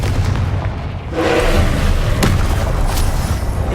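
Confringo blasting curse exploding in Hogwarts Legacy, a heavy booming blast with rumbling debris that holds loud for several seconds, a sharp crack cutting through midway.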